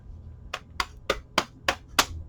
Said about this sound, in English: I'm going to try and do a little bit of hammering.